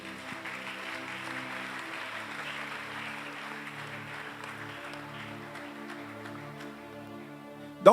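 Church congregation clapping steadily through a long round of applause, moderate and sustained over a sustained musical tone, ending with a brief louder bump.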